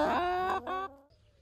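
Backyard garden chickens cluck up close in a short, loud burst of two quick calls that then trail off into quiet.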